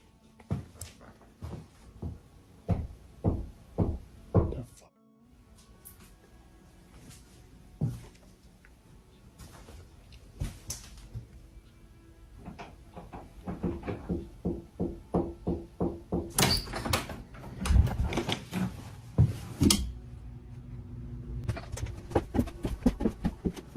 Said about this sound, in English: Out of nowhere, strange knocking noises can be heard coming from somewhere within the basement.